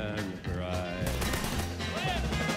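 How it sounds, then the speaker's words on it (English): Gunfire from the video game Mafia 3 cracks in a rapid cluster of shots over layered game sound, with a voice talking through part of it. "I'm trying to see where the gunshots are coming from."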